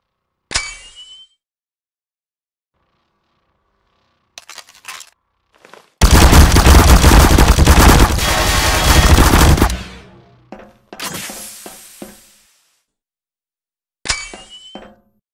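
Garry's Mod gunfire: a loud, continuous burst of about four seconds, close and harsh, with short sharp shots and metallic clatters before and after it amid silence.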